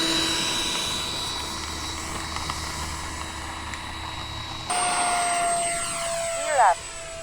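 A model airplane flies over Fritz Field during an eagles and raptors fly-in. Its engine drones steadily with a rising pitch, then one clear whine sweeps past overhead, with a faint hum of other noise under it.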